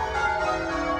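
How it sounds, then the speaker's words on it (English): Church bells ringing inside a bell tower in Perth, Australia, sounding close and loud as a sustained, dense wash of overlapping metallic tones with no break. "Doing some bell stuff."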